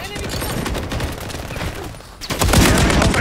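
Automatic gunfire in a video game, continuous rapid bursts that drop away briefly, then return louder and denser, close and dominant throughout.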